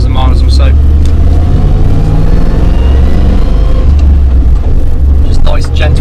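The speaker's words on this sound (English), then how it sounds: "Just nice, gentle acceleration." Arkonik Land Rover Defender 90 pulling away under gentle acceleration, a loud, steady low engine drone from inside the cabin with road noise, while a person talks over it.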